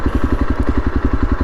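A Yezdi Adventure motorcycle engine turns over in first gear with no throttle, giving a steady, close, rapid low thumping pulse with a slight clatter and no voices.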